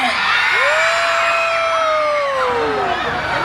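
A large concert crowd at an outdoor show in Cabanatuan shouts and cheers continuously and loudly, with a sustained whooping yell rising above the dense crowd noise.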